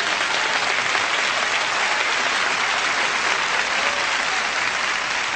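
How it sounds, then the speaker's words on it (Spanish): Church congregation applauding during a sermon, dense sustained clapping from a large crowd, loud and steady for several seconds with no talk over it. "Adelante, vamos, aplaudan."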